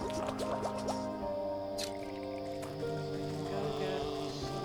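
Water gathered in the Wytchwood game gives a few quick drippy, squishy splashes with soft liquid trickles, quiet and set over a steady bed of game music.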